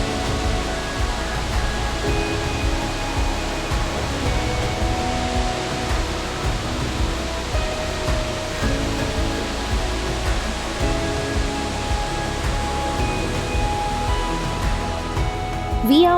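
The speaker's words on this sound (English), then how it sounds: "it's a huge waterfall" Tyrshi Falls, a huge waterfall near Jowai in Meghalaya, roaring as a constant broad rush of falling water, steady and loud throughout with no clear voices.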